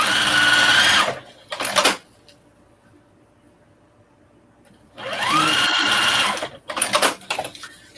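Sewing machine stitching quilting lines on a shopping bag, two loud, buzzing whirring runs near the mic separated by a quiet pause, each ending in short stop-start bursts.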